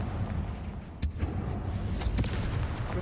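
Confringo blasting spell explosions in Hogwarts Legacy inside a decayed catacomb, two sharp booms about a second apart over a constant rumbling game ambience.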